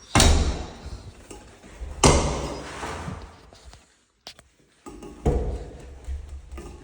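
A building entry door fitted with a newly fixed door closer swings shut with heavy thuds, two loud closing impacts with rattling decay, a quiet gap, then a third clunk.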